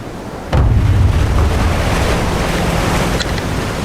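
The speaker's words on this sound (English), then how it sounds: "Reporting to you live from a storm on a boat." Storm waves crash and surge around a boat at sea, a dense, loud roar with heavy wind buffeting the microphone, swelling suddenly about half a second in and continuing without letup.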